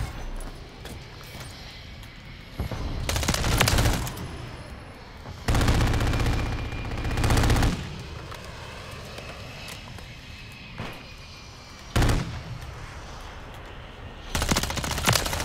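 STRIKER 9 submachine gun fire in a video game comes in several loud rapid bursts of a second or two, separated by quieter stretches of game ambience.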